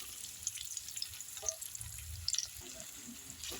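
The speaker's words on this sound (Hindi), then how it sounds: "इस तरह हमें चला चला के ना इसे भून लेना है बढ़िया से।" Jackfruit stir-fried in a pan over a low flame, a quiet, continuous soft sizzle with faint occasional scrapes and ticks, close but low in level.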